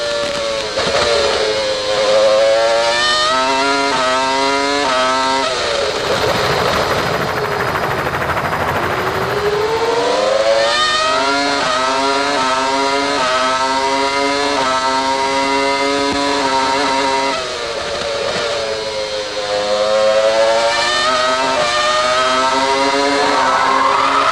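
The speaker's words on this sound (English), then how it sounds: "Enjoy the sound of the Williams BMW engine." Onboard a Williams BMW Formula 1 car driven by Ralf Schumacher at the 2001 San Marino Grand Prix, the engine screams loud and close, its pitch sweeping up through the gears, dropping sharply under braking, then climbing again.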